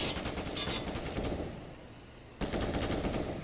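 Rapid gunfire from pistols and a FAMAS rifle in a Counter-Strike esports match, dense bursts of shots that briefly drop away before resuming loudly, continuous and close.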